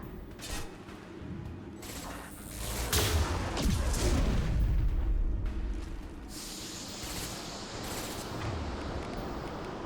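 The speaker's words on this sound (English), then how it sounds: "Concussive shot ready." A concussive shot fired in a video game lands as a heavy booming blast with a rumbling tail, set among mechanical clanks and lighter shots.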